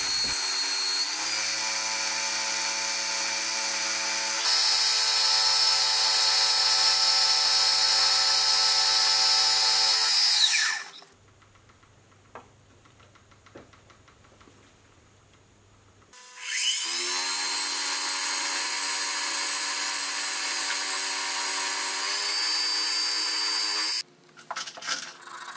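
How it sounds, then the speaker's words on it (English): A milling machine cutting a keyway into a steel toolmaker's mill vise, a loud sustained whining cut that stops for a quieter stretch of low motor hum, then resumes just as loud before ending. "I'll machine in the keyway, but I'll leave it slightly undersized"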